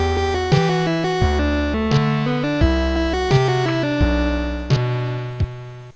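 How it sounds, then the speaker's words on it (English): A synthesized bass line programmed in the OpenMPT tracker plays a quick sequence of distinct stepping notes with sharp attacks, steady and loud, with no voices. "now let's just do a little bass line"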